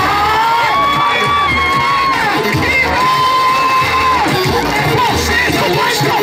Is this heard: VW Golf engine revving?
no